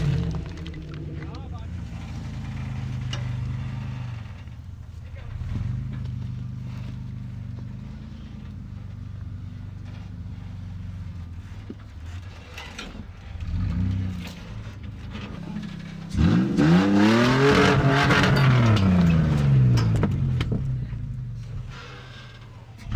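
An off-road vehicle's engine labours in third gear low range while climbing a rocky obstacle on a dusty trail, a steady low drone that surges into a loud rising rev near the end, with someone talking over it.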